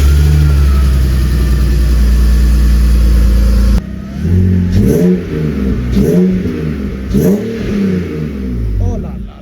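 A loud steady engine drone cuts off, then a BMW E30's engine starts after a rebuild and revs up repeatedly in rising surges, close and powerful.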